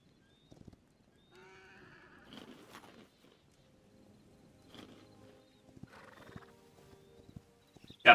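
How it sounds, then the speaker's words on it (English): A horse in Hytale whinnies, its hooves clopping in faint, scattered beats in a quiet outdoor game scene, with a sharp loud sound at the very end. "so glad I took a horse"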